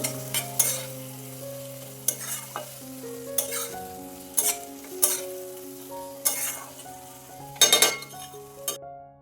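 Chopped tomato and onion frying in oil in a pan, stirred with a utensil that clinks and scrapes against the metal in repeated strokes over a soft sizzle, close and clear with no talking.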